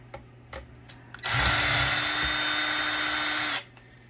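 An electric screwdriver backs Torx 8 screws out of an HP ProCurve network switch, a steady high whirring run of about two seconds after a few small clicks and knocks, close and loud.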